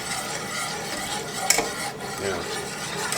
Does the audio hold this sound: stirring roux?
yes